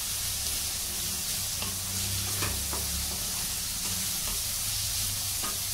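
Chopped cabbage stir-frying in a hot pan for Manchow soup, a steady close sizzle with occasional clicks and scrapes of stirring throughout.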